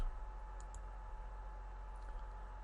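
Light clicking of keys on a computer keyboard, a soft, steady patter of taps under faint room hiss, with no talking.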